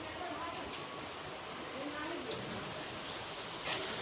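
Rain falls during a windy storm as a steady broadband wash with scattered sharper drops, and a voice talks faintly in the background.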